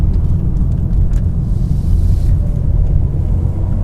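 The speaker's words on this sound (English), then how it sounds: "So we're on the brakes, coming into this corner." A 2019 Mercedes A220 in comfort mode braking into a corner on a road, heard from inside as a steady low road and engine rumble with light wind noise, continuous and without talk.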